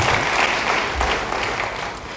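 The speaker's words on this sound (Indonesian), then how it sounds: "Yang mau beri tepuk tangan bagi dia." A church congregation claps together in dense, steady applause, fairly loud and close, with no talking over it.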